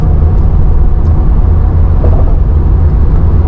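A 2002 Pontiac Trans Am WS6 with a manual gearbox drives along, its engine holding a steady, loud, low rumble close by with road noise and no clear shifts.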